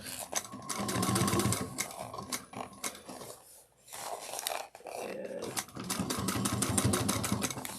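A sewing machine hums and rattles steadily while sewing a bag, running loud and close for most of the time with a brief slowdown midway before picking up again.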